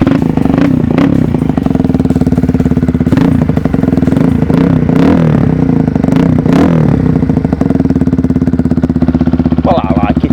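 Honda CB125R motorcycle fitted with a full Scorpion exhaust system, its engine running loud and close with a steady throbbing note, a few revs, and some clatter and scraping.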